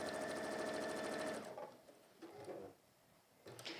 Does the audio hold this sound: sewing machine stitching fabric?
yes